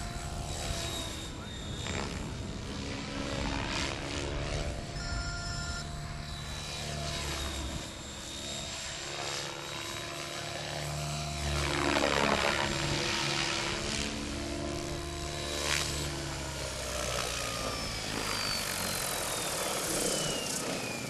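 A Logo 600 RC helicopter flies aerobatic moves outdoors. Its rotor and motor whine stays steady and loud, rising and falling as it passes, with pitch sweeps through flips and pirouettes.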